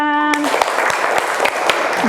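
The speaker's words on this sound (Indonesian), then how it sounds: "tepuk tangan" Schoolchildren clap together in a classroom in a few sharp, rhythmic beats after a short sung note, with a voice briefly heard.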